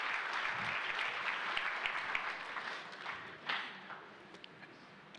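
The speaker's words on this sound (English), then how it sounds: "Another warm round of applause," An audience at a book launch claps warmly for the panelists, a dense roomful of applause that gradually thins and fades, ending with a single loud knock or bump nearby.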